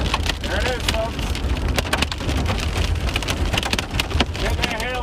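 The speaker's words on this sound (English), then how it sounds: "Getting that hail already." Hail pelting a vehicle during a thunderstorm while storm chasing on an enhanced-risk day, a dense continuous patter of impacts loud and close, with low rumble beneath.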